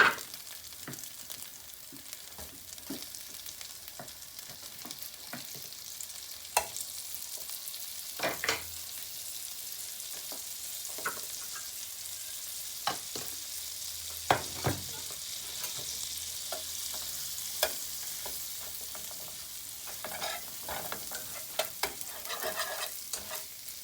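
Curry paste frying with a little butter in a pan for keto curry chicken, a steady soft sizzle broken by occasional clicks and scrapes of stirring, fairly quiet with no talking.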